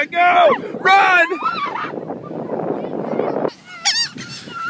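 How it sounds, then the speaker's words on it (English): Gulls at the Jersey Shore give several loud, nearby honking calls in bursts, with wind and beach noise filling the gaps between them. "And that is how we have fun with the seagulls at the Jersey Shore."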